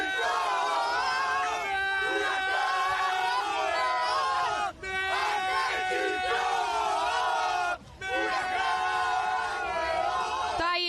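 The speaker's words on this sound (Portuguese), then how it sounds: "Canta mais alto, bora." Flamengo supporters singing and chanting together in a packed crowd at a festive fan gathering in Guayaquil, a loud sustained massed melody with rhythmic swells and two brief dips where the voices drop out.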